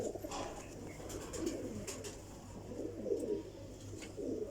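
Pigeons cooing in a loft, soft throaty coos repeating in an irregular rhythm over a steady low hum, fairly close and unaccompanied by speech.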